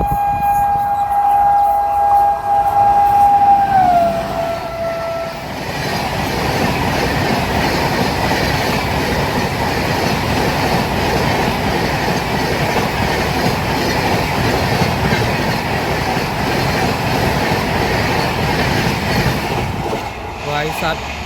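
The Ajmer–Bhagalpur Humsafar superfast express rushes past at around 130 km/h, its horn sounding at first, then a loud, continuous roar with clattering wheels on rail joints that lasts the whole stretch, heard up close from a train being overtaken.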